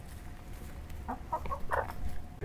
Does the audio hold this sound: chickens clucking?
yes